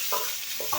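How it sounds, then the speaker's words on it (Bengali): Fish frying in a pan, stirred in short scraping strokes over a constant sizzle; three brief stirring sounds stand out near the start and end. "মাছটা নিয়ে নাড়াই"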